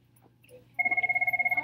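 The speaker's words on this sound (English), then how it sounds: "Let me answer the phone real quick." A telephone rings during an online read-aloud lesson. After a quiet moment, a rapid pulsing electronic trill starts and repeats steadily and loudly to the end, with no talk over it.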